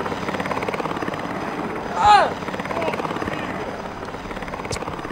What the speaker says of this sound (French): Il arrive en hélicoptère, il descend!